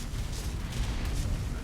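Dense, continuous rumbling explosions and booming effects pile up together from a snowy battle in the survival game Pugnacia on hardcore, a steady loud roar with no pauses across the short stretch.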